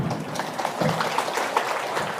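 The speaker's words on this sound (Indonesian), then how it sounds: "Tepuk tangan dulu." Audience clapping at an Indonesian Islamic sermon, a soft, diffuse patter of many hands that stays steady and fairly faint for about two seconds with no talk over it.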